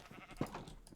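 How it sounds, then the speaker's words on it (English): A sheep bleats once in the Minecraft video game, a short mid-loud bleat over faint game background. "Hello, sheep."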